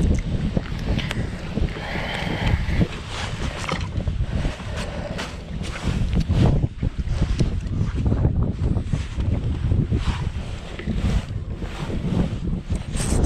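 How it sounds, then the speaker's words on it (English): Strong wind roars and buffets the microphone throughout while fishing for bream from a boat on water thick with weed, a steady loud rush with gusty swells and no talk. "And this wind is not gonna make life easy."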